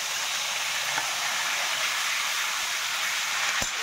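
A paste of ground mustard, ginger, green chilli and cumin hisses in hot oil over a cumin and bay-leaf tempering for a mustard fish curry. It makes a steady, close, even sizzle with a couple of faint clicks.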